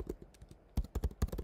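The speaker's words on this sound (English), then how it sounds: "We're just gonna type pay with credit card" Quick keystrokes on a computer keyboard, a light patter of clicks that pauses briefly and then resumes in a denser burst, close and fairly quiet.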